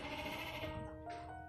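A sheep bleats steadily on a farm where sheep are bred and shorn, one long wavering cry that tails off, with a short second call near the end, close and clear.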